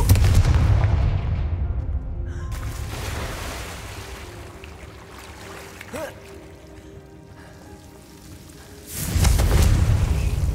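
In Hogwarts Legacy, a Confringo fire spell bursts with a deep, booming explosion. A low rumble fades away and is followed by a second heavy blast near the end, with no talking.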